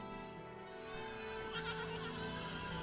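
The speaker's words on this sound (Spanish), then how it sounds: "llegó Pedro con sus cabritas a la cabaña" Goats bleating softly near a mountain hut, a few wavering, overlapping calls layered with quiet background music and no speech.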